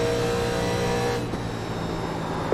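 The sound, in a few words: NASCAR race car passing in iRacing video game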